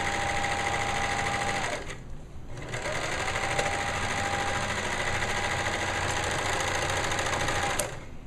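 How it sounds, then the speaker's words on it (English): A serger overlocks the bottom hem of a girl's fabric gown, giving a close, steady mechanical whir that dips for a short pause near the start and then runs on evenly. "Now I am serging the bottom of the gown."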